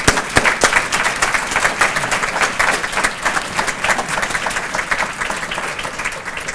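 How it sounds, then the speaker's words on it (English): A hall audience at a Black History Month celebration gives a round of applause, steady dense clapping throughout at a strong, even level. "So let's give them all a round of applause"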